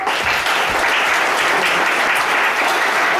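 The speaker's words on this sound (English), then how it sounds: "give Tom a round of applause to stand up" Steady, dense applause from a stage hypnosis show audience, loud and continuous throughout with no break.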